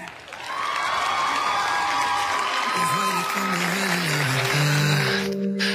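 Crowd breaks into applause and cheering for a singer, a steady wash of clapping that swells in, with voices calling out and rising over it.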